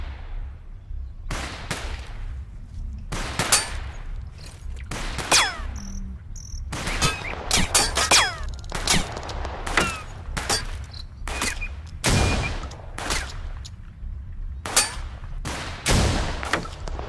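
Gunfire in the war game Total Conflict Resistance, with sharp shots cracking repeatedly in irregular bursts over a steady insect-like ambient buzz, some near and loud, others fainter.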